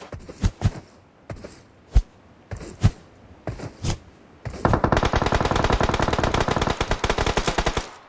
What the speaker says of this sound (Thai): เสียงปืนมันนำพาเราไป ได้ยินเสียงปืนแล้วมีพลัง